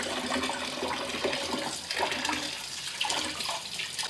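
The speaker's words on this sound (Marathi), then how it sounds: "आता दुसरी वेळ एकदा कोथिंबीर चांगली धुवून घेते" Water splashes and runs as fresh coriander leaves are washed in a kitchen, a continuous gurgling wash with fluctuating swishes and no talk.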